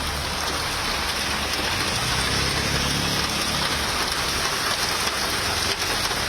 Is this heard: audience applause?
no